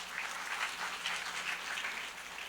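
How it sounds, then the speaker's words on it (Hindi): A youth camp audience claps together in steady, dense applause at a moderate distance, with no talking over it. "अरे अपने लिए ताली बजाओ प्लीज"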